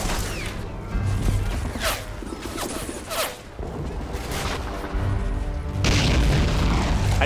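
Heavy booming tank cannon blasts and explosions in the Men of War: Assault Squad battle game, several loud broadband thumps at irregular intervals over a constant rumbling battlefield din.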